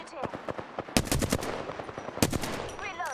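Rapid automatic gunfire in the video game Apex Legends, two loud close bursts of shots with scattered single shots around them.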